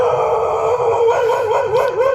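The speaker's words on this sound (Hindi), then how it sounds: "अरे यार ये कुत्ता अब चालू हो गया। यहाँ पे कुत्ता वो बहुत बल्ला रहा।" A dog near a small roadside temple howls loudly and continuously, its drawn-out wavering cries close by and dominating the scene with little else audible.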